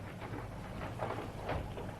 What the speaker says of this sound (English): It's not raining so hard now